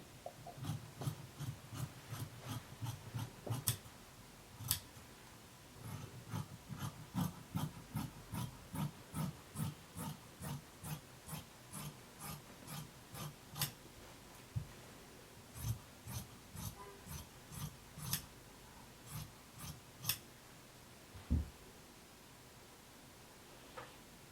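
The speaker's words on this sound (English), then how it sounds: "Now you're just going to cut around the lines that you created." Scissors cut through fabric along drawn lines for a DIY poncho, a quiet repeating series of crisp snips in a steady rhythm with soft rustling between them.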